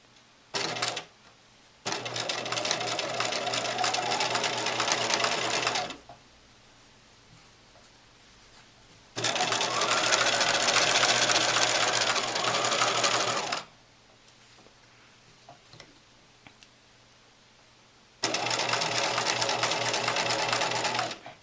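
A sewing machine runs in three long bursts of steady whirring stitching through thick apron fabric at the neck strap, pausing between runs, close and loud with no talk.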